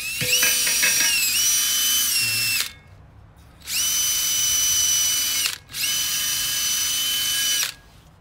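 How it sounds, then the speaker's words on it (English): A power drill spinning a wire wheel brush against a car exhaust header, whining loudly in three long bursts with short pauses between, close up. "using the wire wheel and that is working hella good"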